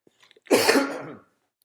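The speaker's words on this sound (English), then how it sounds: "I'm getting over this cough and I have to clear my throat a little bit." A single sharp cough or throat-clearing burst, close and loud, lasting under a second after a few faint clicks.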